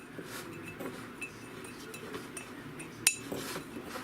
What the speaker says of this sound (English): grab a spoon, and we're gonna sit there and go ahead, mix everything all up inside the coffee cup